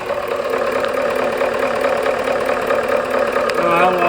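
Motor with an oil delivery problem on the top end runs at a steady idle, a fast light ticking from the lifters riding over the engine drone throughout, close and fairly loud.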